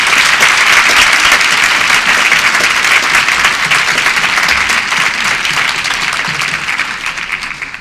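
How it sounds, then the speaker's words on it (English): Loud sustained applause from an audience at a McCall Middle School parenting program event, a dense wash of clapping that holds steady and then tapers off at the close. "let's give those folks a nice big round of applause"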